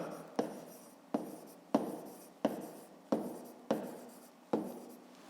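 A pen writes on paper during a fifth-grade math exercise, giving a close, regular series of about seven scratchy strokes, each starting with a sharp tap and fading before the next.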